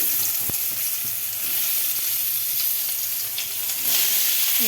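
Potato and squash pieces frying in hot oil in a pan seasoned with bay leaf: a continuous close crackling sizzle with a few sharp pops and scraping stirs, steady and fairly loud throughout.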